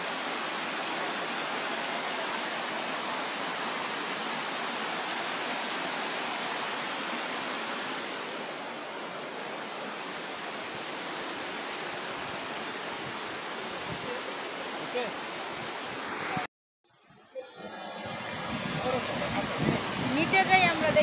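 The third falls of a waterfall near Shillong, Meghalaya roars as a loud, constant wash of rushing water, briefly cutting out near the end before returning with gusty wind.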